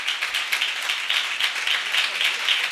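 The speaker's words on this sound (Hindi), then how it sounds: "आप इनके लिए जोरदार तालियां।" Steady applause from an audience at a church anniversary gathering, dense clapping filling the whole stretch at a fairly even level with no voices over it.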